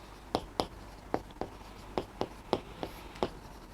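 Chalk or pen strokes while writing table headings for a class-6 maths lesson, about nine short distinct taps and scratches at an uneven pace, close and clear with no talk.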